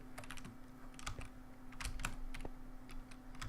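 Rapid irregular clicking of computer keyboard keys, close and fairly quiet, in bursts over a steady low electrical hum, with no talking.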